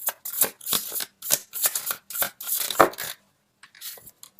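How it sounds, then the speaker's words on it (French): Tarot cards are shuffled and drawn in quick, crisp bursts of riffling and slapping, close and loud, with a short pause before a few softer card flicks. "maintenant on va sortir les cartes du développement"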